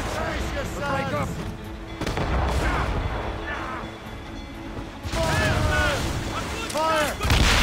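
Ship cannons boom in broadside volleys during a naval battle in Assassin's Creed Rogue, with crashing impacts between shots, while voices shout orders over the gunfire.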